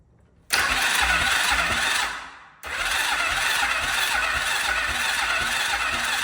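A used quad's engine fires up abruptly, runs loud and rough, dips as it nearly stalls, then catches again and settles into a steady close idle with a rattly mechanical tone.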